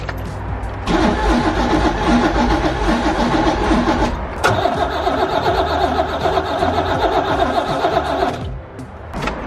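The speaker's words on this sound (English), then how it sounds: "Got good crank, but I'm still not getting fuel." A car engine with a suspected bad fuel pump cranks hard but won't fire, giving two long, loud, rhythmic starter-motor bursts, each several seconds, separated by a short pause and ending without the engine catching.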